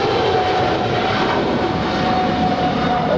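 An American Airlines heavy jet takes off from runway 25 right at LAX, a loud continuous broadband engine roar with a steady whine, close and without voices.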